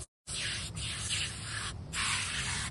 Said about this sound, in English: Spray and scrape.